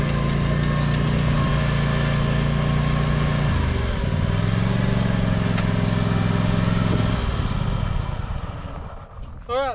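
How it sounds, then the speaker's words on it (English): Small engine running steadily nearby, a lawn mower on a farm, with a loud constant drone whose pitch drops briefly midway before settling and fading near the end. "All right, so now we got the lawnmower over here."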